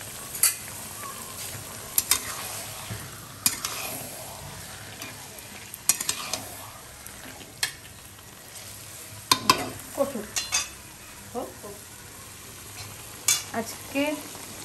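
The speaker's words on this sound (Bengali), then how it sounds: "মাটনটা কষানো হচ্ছে।" Mutton being sautéed for a spicy red curry with new potatoes, with a spatula repeatedly scraping and clanking against the pan over a continuous sizzle of frying meat.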